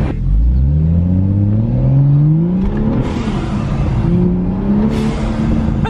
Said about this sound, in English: the exhaust is so much louder, you can actually hear it